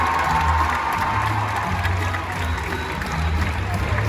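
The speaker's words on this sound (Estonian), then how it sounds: "Teeme neile aplausi!" An audience applauds a small ponies' quadrille at the Tallinn International Horse Show 2022. The clapping is steady, dense and sustained throughout, with low tonal sounds from the arena underneath.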